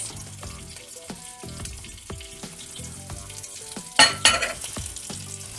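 Tantuni frying in a pan with tomatoes added, a steady sizzle with rhythmic metal stirring and scraping, then a louder burst of sizzle as the tomatoes hit the hot pan.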